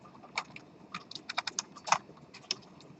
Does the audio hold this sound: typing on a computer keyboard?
yes